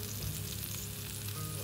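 Buffalo burgers sizzle steadily on a hot camp grill with the lid off, a continuous broadband frying hiss with no talk over it.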